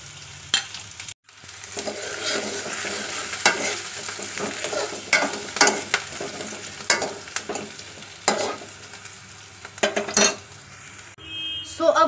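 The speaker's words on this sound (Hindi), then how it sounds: "अब इसमें मैं लहसुन ऐड कर दूंगी।" Finely chopped garlic sizzles in a pan while being stirred for a momos chutney, with steady frying hiss and repeated sharp clinks of a spoon scraping the pan, no talk.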